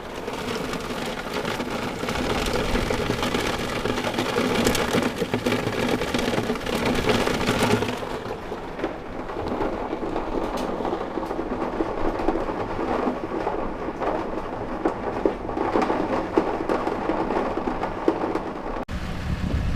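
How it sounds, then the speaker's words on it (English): Heavy rain drums steadily on a camper roof during a thunderstorm, a dense close patter with low rumbling thunder underneath, continuing without pause. "You can probably hear the rain hitting the roof of the camper."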